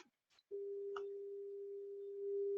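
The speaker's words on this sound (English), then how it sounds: "So this is a normal 400 hertz sine wave." A steady, pure 400 hertz sine wave tone hums continuously after a couple of faint clicks, unwavering in pitch and holding at an even level.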